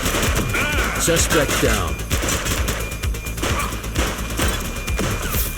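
Rapid bursts of gunfire in The Precinct police game, dense overlapping shots from several weapons during a shootout, loud and continuous, with a voice calling out over the firing.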